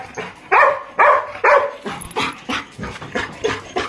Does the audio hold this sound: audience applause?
no